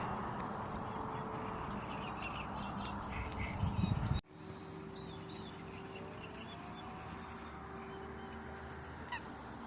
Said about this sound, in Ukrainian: Дикі качечки.